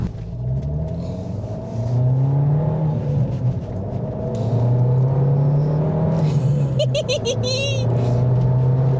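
An Abarth's engine revs up and down through a Bombardone exhaust, a deep throaty rumble rising and falling twice, close by.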